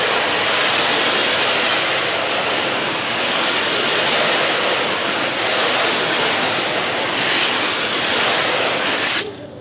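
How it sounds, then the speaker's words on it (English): A garden hose at about 90 psi rinses a car's painted panel with plain water, a loud steady broadband spray hiss running nearly ten seconds before cutting off abruptly at the end. "I'm going to take 90 psi of pressure from a garden hose and rinse this panel down"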